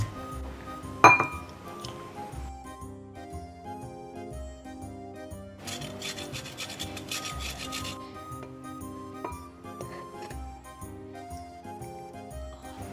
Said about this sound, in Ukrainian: Для цього змішуємо олію, улюблені спеції, петрушку, чесничок та лимон.